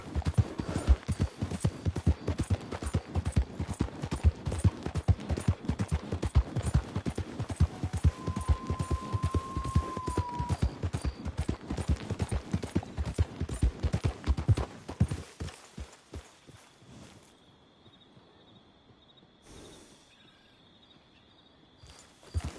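A horse gallops in the video game Red Dead Redemption II, its hooves pounding in a steady, rapid rhythm for about fifteen seconds before thinning to scattered, quieter steps.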